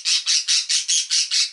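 A pet bird squawks loudly and harshly in seven rapid, evenly spaced bursts, very close with no gaps of silence between the rasping calls.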